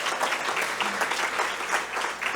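Applause from a gala awards audience at a chamber of commerce event, a dense steady wash of many hands clapping for a couple of seconds with no voices over it.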